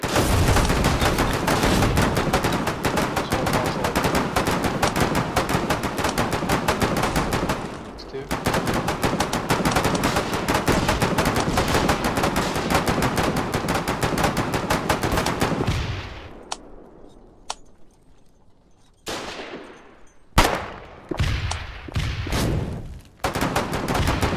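Dense, rapid automatic gunfire from a Foxhole battle at a fort, nearly continuous for about fifteen seconds with one short break, then thinning into scattered separate shots and short bursts.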